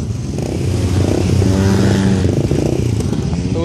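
A quad bike rides past close by with a loud, rough engine roar that rises and falls as it revs, and rattling clatter runs underneath throughout.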